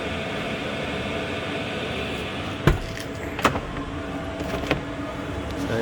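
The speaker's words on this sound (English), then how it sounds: "So there's the motor, it's running right now." Espar D4L diesel air heater motor running inside a Sprinter van, a steady broadband fan-like whir and hum with a few brief clicks and knocks over it, continuous and close.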